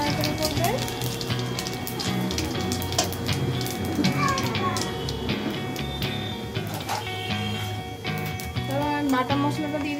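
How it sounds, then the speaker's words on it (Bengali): Bay leaf, dried chili and five-spice hit hot oil for a Bengali shukto tempering and give a dense crackling sizzle. Someone talks over the frying, with light clinks of a stirring utensil. "এবার আমি ফোড়নটা দিয়ে দেবো, তেজপাতা, শুকনো লঙ্কা আর 5 ফোড়ন।"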